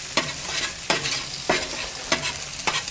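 A spatula scrapes scrambling eggs across a hot Weber Slate flat top griddle, five firm strokes at a steady pace over a constant close sizzle.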